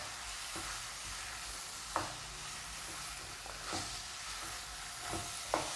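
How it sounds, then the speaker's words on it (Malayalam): Liver masala being stirred in a frying pan, a steady soft sizzle under periodic scraping strokes of a spoon against the pan, with a few sharper clinks spaced roughly a second or two apart. "ഇത് നല്ലപോലെ മിക്സ് ചെയ്ത് കൊടുക്കാം."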